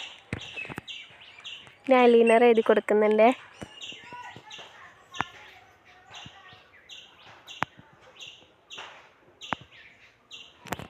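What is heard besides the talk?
crows and small birds calling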